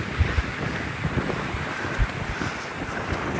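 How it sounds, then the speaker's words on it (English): Wind on the Heysen Trail at Whistling Trig, near a wind farm, rushes and buffets steadily against the microphone, with low rumbling gusts and occasional thumps. "And you'd be shocked to know it's windy."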